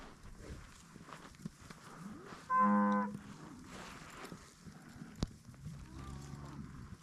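Cattle in a moving herd, one clear mid-distance moo rising above a quiet outdoor background, with faint shuffling hooves and scattered softer lowing around it.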